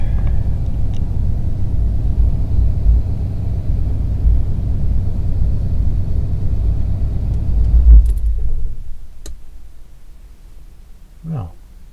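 A 1982 Fleetwood Class C motorhome drives along with a loud, steady low engine and road rumble that drops away after about eight seconds, leaving quieter cabin sounds and a brief rising whine near the end.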